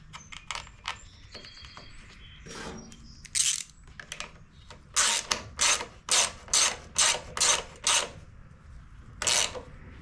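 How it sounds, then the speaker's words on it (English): Screw being driven back in by hand on a Honda HRR216 push mower under repair, a run of short, crisp ratcheting clicks in quick bursts, close and alone with no talk. "I gotta put that screw back in."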